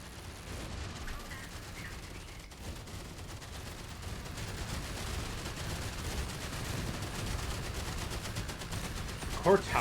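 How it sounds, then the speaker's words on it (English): Continuous dense machine gun fire in the game Outpost: Infinity Siege, a steady rattling barrage at moderate loudness with no break. "We are machine gunning through this ammo,"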